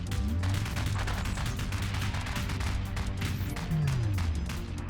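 Rapid gunfire rattles in the space combat game Convoy, a dense run of sharp shots over a humming engine drone, with a falling whine of a passing craft near the end.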